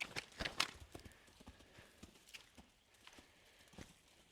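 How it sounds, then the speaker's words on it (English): A horse's hooves clop and thud on the ground in a round pen, a loose uneven rhythm of moderately close footfalls, louder early and fading to scattered steps. "She doesn't need to lope as long as she keeps her feet moving."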